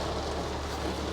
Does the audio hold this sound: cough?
no